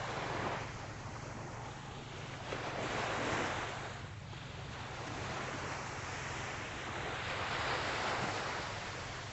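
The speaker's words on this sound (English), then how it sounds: "Waves are calm." Calm Atlantic Ocean waves wash onto a sunrise beach at Deerfield Beach, Florida, in slow swells of soft surf that rise and fall every few seconds, with steady wind rumble underneath.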